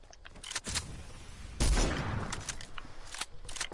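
Rapid submachine-gun fire in a video game: bursts of sharp close shots, with one especially loud, dense volley in the middle and scattered quicker rattles around it.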